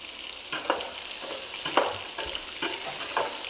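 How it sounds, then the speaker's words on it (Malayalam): Dried stingray fries in a pan with a steady close sizzle, broken by regular scraping bursts of stirring roughly every half second; no voices. "ഉണക്കത്തിരണ്ടി വറുക്കാനായിട്ട് അപ്പുറയിലോട്ട് വെച്ചു."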